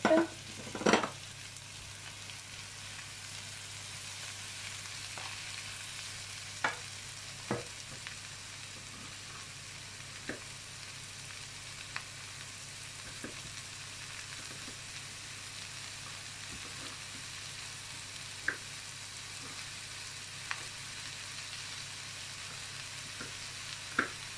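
Zucchini tagliatelle sautéing in a hot pan, a faint steady sizzle throughout with occasional soft clicks and stirring scrapes, a couple of louder knocks at the start.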